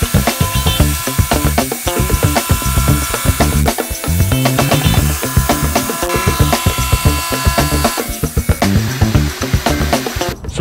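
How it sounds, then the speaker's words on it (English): A power sander grinds loudly and close, trimming fiberglass on a boat build, buzzing in choppy bursts as it bites and lifts repeatedly over several seconds. "Just hit it with that sander and off it comes."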